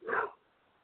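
A single short bark from a neighbor's dog at home, close and fairly loud, then quiet.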